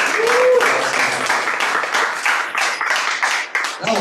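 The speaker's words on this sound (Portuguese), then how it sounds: "Você pode dar um forte aplauso ao Senhor" A church congregation claps enthusiastically during a communion service, strong rhythmic applause mixed with voices calling out over it.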